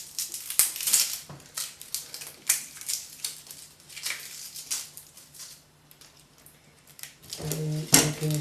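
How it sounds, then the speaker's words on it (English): An onion is cut and peeled in a kitchen, with a knife cutting off the top and bottom and then the outer layer being pulled away. Close, irregular crunches, cracks and papery rustles come in bursts separated by brief pauses. "Just cut the top and bottom off, and then peel out the outer layer"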